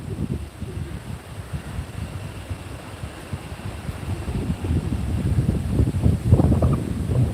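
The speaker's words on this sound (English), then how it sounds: "the wind has been getting worse here" Strong wind on a farm with chickens and goats buffets the microphone in a continuous low rumble, rising in gusts toward the end, with no talking.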